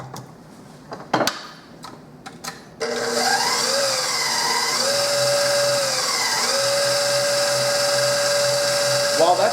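An electric stand mixer whirring steadily as it mixes biscotti dough, a loud continuous motor hum with a slowly wavering pitch, starting after a few faint clicks and knocks.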